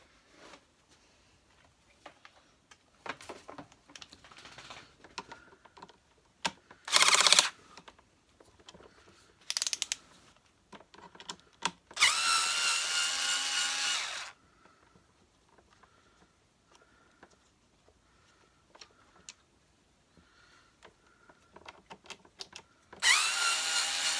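Screws are removed during disassembly of a Hoover Turbopower Junior U1100 vacuum, with short bursts of whirring from a powered screwdriver between quiet clicks and handling noises close by.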